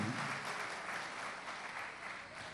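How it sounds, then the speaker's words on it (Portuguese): A church congregation applauding, a dense, continuous wash of many hands clapping that fills the room evenly and stays loud throughout. "Aplauda Jesus comigo"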